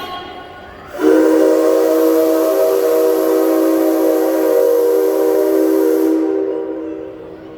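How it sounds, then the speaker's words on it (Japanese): A C57 steam locomotive at the Railway Museum in Omiya blasts its whistle once, a loud, long sustained chord-like tone with hissing steam, lasting about five seconds before cutting off. "ただいま汽笛をお届けしたのは C57 型蒸気機関車です"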